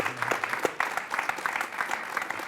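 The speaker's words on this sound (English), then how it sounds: "A little round of applause." A small group claps briefly during a live music-business class stream, a thin, scattered patter of hands, close and moderately quiet.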